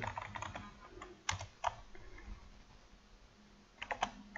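Keys clatter on a computer keyboard in quiet short bursts with pauses between them, soft and close, with no talking.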